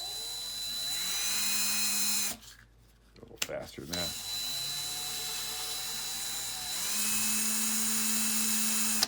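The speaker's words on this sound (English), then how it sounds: "all we're gonna do is use our drill as a little lathe" A power drill used as a small lathe to buff screws whirs steadily, stops briefly while someone speaks, then spins up again and runs at a constant high pitch.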